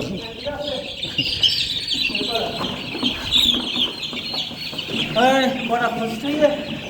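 Chickens cluck and chicks peep nearby on a poultry farm as young birds are moved from brooding to a new house, with overlapping calls and a louder squawk burst near the end, with voices talking underneath.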